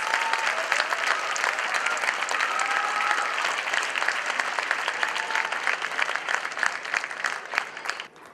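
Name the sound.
audience applause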